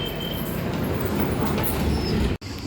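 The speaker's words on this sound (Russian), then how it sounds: "по одной и той же линии, да, едет две электрички" Electric commuter train rolling past on the line, a loud, continuous rumble of wheels and carriages close by with faint squeal overtones, cutting out abruptly near the end.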